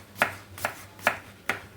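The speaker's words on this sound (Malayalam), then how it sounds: "സവാള നന്നായിട്ട് അരിഞ്ഞ് കഴുകി തൊലി പൊളിച്ച് കഴുകി അരിഞ്ഞെടുക്കുക." A knife chopping onions on a board, four crisp, evenly spaced cuts in quick succession, close and clear with nothing else around.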